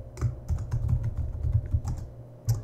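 Fast, uneven clicks of a computer keyboard as someone types entries into a list, sounding close and clean with no voices.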